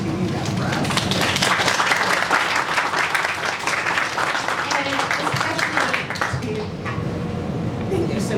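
A crowd applauds the facilitators at a leadership speech event, with a loud, dense burst of clapping that gradually thins and fades toward the end while voices murmur underneath.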